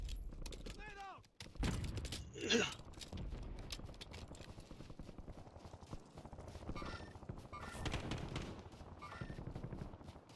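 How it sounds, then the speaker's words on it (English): Gunfire in Call of Duty Black Ops 6, heard as rapid rattling bursts and scattered shots over a busy game soundscape, fairly faint, with game voice chatter now and then. "Taking fire over here."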